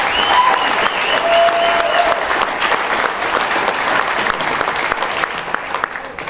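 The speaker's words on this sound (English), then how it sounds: "Give yourself a round of applause." Dense, steady applause from a large audience at a Sam's Club National event in 2012, loud and continuous throughout, easing slightly toward the end with no one talking over it.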